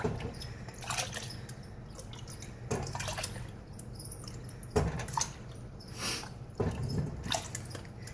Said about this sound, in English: I ladle it into a big mixing cup